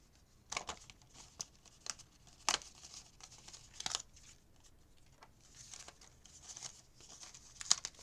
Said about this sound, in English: So they're very easy to pop out, these die cuts.